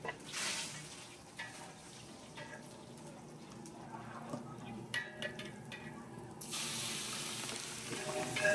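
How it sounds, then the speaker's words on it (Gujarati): Spices for a vaghar tempering crackle and hiss in hot oil, a soft, close sizzle with small popping bursts that swells louder toward the end. "હાલો વઘાર મારી દીધો હે."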